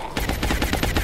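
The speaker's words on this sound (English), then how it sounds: "Actually, he's gonna shoot." Rapid burst of automatic gunfire in the video game XCOM Long War, about eight loud, close shots in quick even succession.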